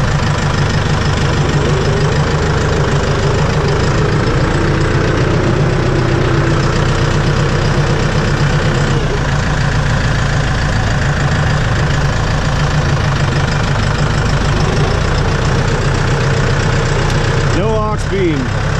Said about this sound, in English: let's throw this in C range and go for a quick drive up the road